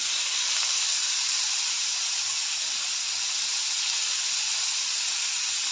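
Chana dal and onions sautéing in a pan with turmeric give a steady, even hiss and sizzle that holds at a constant level throughout, with no voices.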